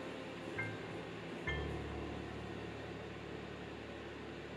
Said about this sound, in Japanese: リンゴの水分を蒸発させるためにラップをせずにもう一度電子レンジで5分加熱します